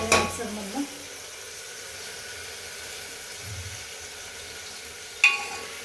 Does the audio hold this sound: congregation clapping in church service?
no